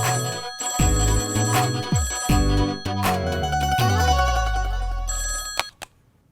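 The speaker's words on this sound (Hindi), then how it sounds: "फोन बज रहा है।" Telephone ringing indoors, loud bell-like rings repeating in bursts over a tonal musical backing, stopping abruptly near the end with a click.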